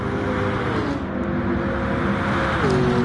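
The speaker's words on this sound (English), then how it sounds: "Back hard onto the power once more," Race car engine in a racing video game on PS4 holding a steady, loud drone and shifting pitch through the gears, with a brief dip and rise near the end; continuous and close.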